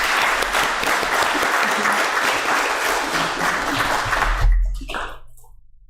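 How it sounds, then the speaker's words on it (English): Big round of audience applause at a Buddhist temple Sunday service, loud sustained clapping from many people that swells, then quickly dies away into near silence at the end. "Big applause for"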